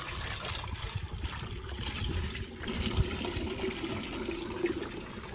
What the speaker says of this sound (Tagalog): bagong tubig na ating ihahalo doon, pandagdag kumbaga